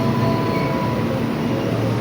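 Commuter train bound for Jakarta Kota, a steady loud rumble of rail cars with tonal hum, continuous and close, no talking.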